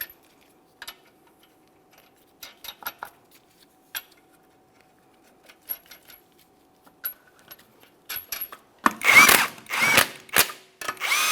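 On a Mitsubishi Lancer, metal clinks and taps of 21mm lug nuts and tools give way to loud bursts of a power tool spinning and tightening them, close and growing louder, with no talking.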